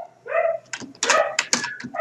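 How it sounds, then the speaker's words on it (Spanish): A neighbour's dogs bark next door, a rapid series of sharp yips and barks with whining tones, fairly loud and close, with no talking. "mi vecino ya empezó a hacer ladrar a sus perros"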